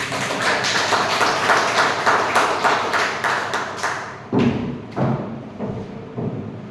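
Applause from the audience at a Toastmasters club meeting welcomes the next role-holder: a dense run of clapping for about four seconds, then thinning to a handful of scattered, separate claps.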